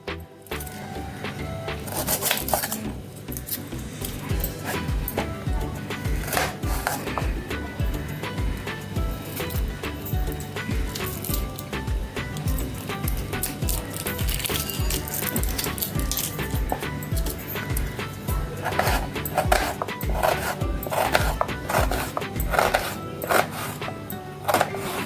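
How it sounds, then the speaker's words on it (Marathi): Steady, rapid knife strokes chop an onion on a board, a dense run of sharp clicks and taps that carries on without pause, close and fairly loud, with faint kitchen clatter in the background. "आपण असा कांदा चिरून घेऊया।"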